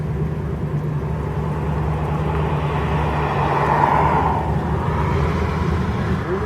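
A car passes on a road with S-curves, heard from inside a wood-powered 1997 Dodge Dakota as a steady rumble that swells slightly near the middle and then eases.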